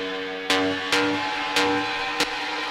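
A synth lead in an industrial techno track answers the main lead with four sharp, bright stabs about half a second apart, each ringing over a steady sustained drone.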